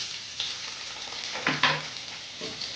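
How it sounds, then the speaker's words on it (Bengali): Chopped onion and garlic frying in a pan for a rui fish and jackfruit curry, a soft steady sizzle with a few close spoon scrapes and stirring knocks, no voices. "দিয়ে আমি 3-4 মিনিটের মতো ভেজে নেব"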